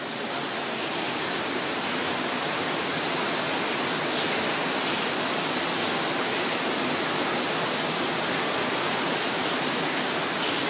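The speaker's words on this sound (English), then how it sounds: "Especially with that force of water coming down." Forceful water rushes down continuously at a salmon hatchery, a loud, steady, broadband roar with no pauses or voices.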